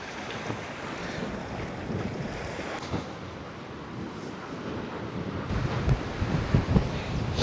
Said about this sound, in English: The waves crashing against it, compared to the tranquility.